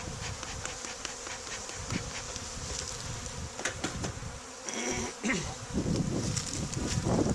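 Honeybees swarm at an opened backyard hive during an inspection, a close, dense buzz of many insects with individual bees droning past near the ear.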